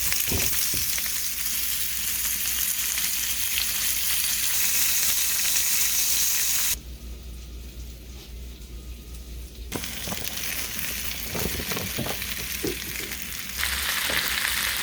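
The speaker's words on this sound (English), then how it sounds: "Doing some simple sauteed veggies with rice for dinner." Vegetables sautéing in a pan for a simple rice dinner: a continuous close sizzle with occasional stirring scrapes, dropping quieter for a few seconds midway before the frying sound swells again.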